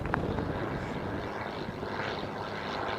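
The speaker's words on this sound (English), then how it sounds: "coming in for landings for the afternoon." An airplane approaching to land near San Mateo Municipal Airport, heard from a shoreline park as a steady, fairly distant propeller-engine drone that holds evenly throughout, with no talking.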